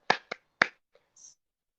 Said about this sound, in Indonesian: Ibu beri contoh dulu ya. Tepuk semangat.